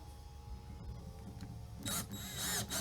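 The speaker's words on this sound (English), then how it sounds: "Now this is where our stud is, so we're just going to drill straight in." A power drill bores straight into a wall stud while a floating shelf is being mounted, with a faint hum leading into close, loud whirring bursts in the last second.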